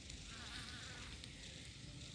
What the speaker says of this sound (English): You see how that bee is working so hard,